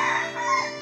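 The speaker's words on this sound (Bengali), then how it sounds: "মুরগিটি হঠাৎ একদিন মোরগের মতো ডাকতে শুরু করে" A domestic hen in a village in Nagarpur, Tangail, crows like a rooster, a brief, sustained, strained call heard close and clear with no talking.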